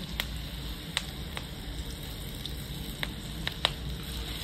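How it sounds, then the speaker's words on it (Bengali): Big hot green chillies dipped in pakora batter fry in hot oil in a village kitchen: a continuous soft sizzle with occasional crisp spattering pops, close and steady, no voices. "পকোড়ার গ্রেভিটা ছিল, এই গ্রেভিটা মাখিয়ে লঙ্কাগুলো ভাজছে।"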